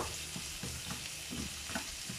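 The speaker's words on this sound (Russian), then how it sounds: "Немножко сейчас я его обжарю чуть-чуть на постном масле." Chopped onion fries in vegetable oil, a steady close sizzle with soft intermittent stirring scrapes and pops, heard alone without talk.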